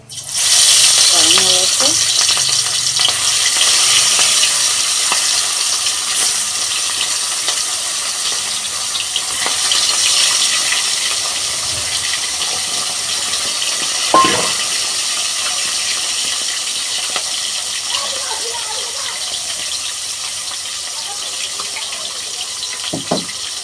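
Fish rubbed with salt and turmeric fries in hot oil in a kadai, giving a loud, steady, close sizzle that hisses throughout with a few scattered clicks and pops, no talking.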